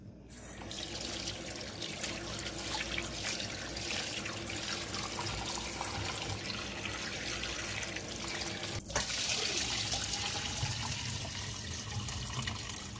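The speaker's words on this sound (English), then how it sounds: "So I'm going to rinse this out and then go ahead and marinate this." Beef ribs rinsed under a running kitchen faucet, a steady close stream of water splashing into the sink throughout with no talk.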